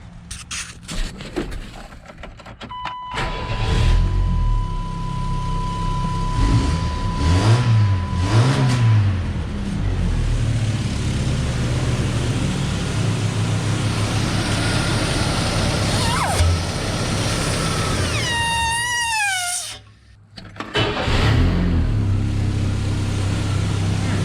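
A car engine with a DIY cold air intake and new muffler cranks and catches, then idles steadily with a few revs, a brief dip near the end before it runs again.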